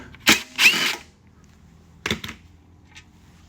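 A power tool removes bolts from a Toro mower in brief, sharp whirring bursts. Two bursts come close together, and a third follows after a quiet gap.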